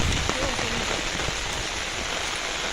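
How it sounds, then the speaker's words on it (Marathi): Heavy rain pouring at night during a crab-catching outing, a steady dense hiss that fills the whole clip, with faint voices underneath. "पाऊस पण जाम मोठा आलाय"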